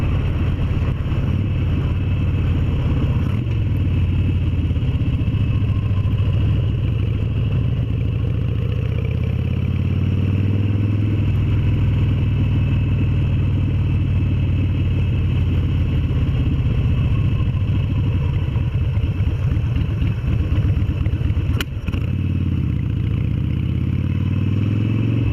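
A Harley-Davidson Sportster motorcycle engine rumbles steadily and loudly for the whole stretch, a continuous low drone with road and wind roar on top and no talk.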